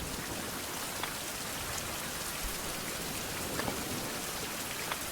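Steady rain in the 16th-century survival game Survival: Fountain of Youth, a constant broadband hiss of falling drops with a few brighter drip ticks, even and unbroken throughout with no talk.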